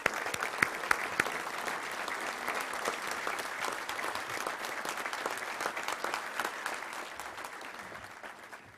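Sustained applause from an audience at a Little Rock Touchdown Club gathering honoring the young men's relatives, a steady dense clapping of a large crowd that slowly tapers off.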